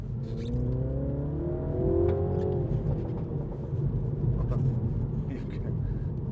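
A 2016 MINI Hatch John Cooper Works with a 2.0 engine revs up after a downshift, its engine note rising and then holding as a steady, loud drone heard from inside the cabin.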